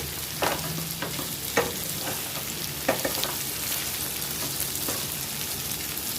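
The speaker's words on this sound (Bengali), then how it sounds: "ভালো মতো কষিয়ে নিলাম" Ridge gourd curry stir-fried in a pan: a steady, dense sizzle runs throughout, with occasional spatula scrapes and taps against the pan, close and moderately loud.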